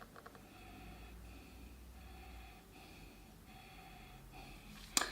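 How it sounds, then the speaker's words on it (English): Three short, sharp sniffs of beer taken at the nose, each followed by an exhale, faint and evenly spaced, ending in a brief louder sound. "we give it 3 short, sharp sniffs, exhaling each time"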